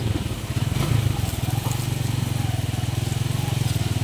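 A motorcycle engine runs steadily with a low rapid throb and a slight crackle, close and constant throughout while riding toward a mountain river.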